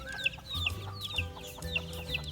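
Free-range Sasso hen with her sixteen chicks, soft repeated clucks from the hen under a steady chorus of high chick peeps, close and moderately quiet on a rural farm.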